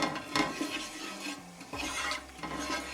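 Cumin seeds are stirred through hot olive oil in a pan, giving soft scraping and rubbing strokes over a light background sizzle, in a few uneven bursts with no talking.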